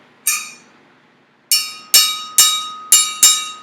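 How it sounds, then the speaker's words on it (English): Strikes of a West African atoke bell ring out close and bright: one hit, a pause, then five more in a steady timeline pattern, each struck tone decaying quickly. "We also have the atoke bell."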